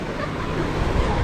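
Surf at Reviola Beach in Batam washes in as a dense, steady roar of breaking waves mixed with wind noise, fairly close and continuous throughout.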